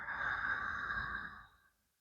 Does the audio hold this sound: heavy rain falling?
no